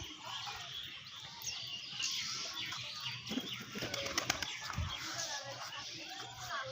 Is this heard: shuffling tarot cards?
no